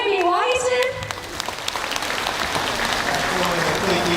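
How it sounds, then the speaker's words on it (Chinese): A voice ends an announcement, then a seated audience breaks into sustained applause for a visiting surgeon at a cancer-prevention health lecture, the clapping dense and lively throughout. "我们以最热烈的掌声欢迎王辉明王医师"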